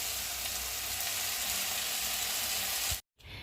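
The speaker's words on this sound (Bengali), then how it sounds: "এখানে আজ পাঁচমিশালি তরকারি রান্না হচ্ছে" Mixed vegetable curry frying in a pan, a steady close sizzle with faint stirring, running unbroken and alone before a brief cut-out near the end.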